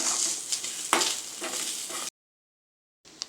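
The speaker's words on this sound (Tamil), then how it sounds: "இதே நம்ம இப்போ இதில் போட்டு நம்ம நல்லா வதக்கிடலாம். நல்லா பொன்னிறமாக கலர் மாறுற வரையும்" Coconut, onion and garlic sautéing in a pan, a close bright sizzle with stirring scrapes for about two seconds, then a cut to silence before the sizzle briefly resumes.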